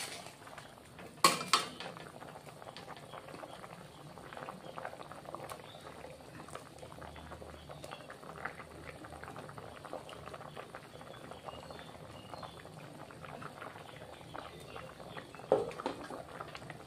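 Bata fish simmering in a mustard curry bubbles at a steady rolling boil, with soft continuous liquid popping and an occasional sharp clink of a utensil against the pot near the start and end.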